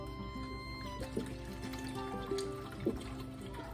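Distilled water poured from a jug for pressure canning gold potatoes, a steady close trickling stream with a couple of brief gurgles, no talking.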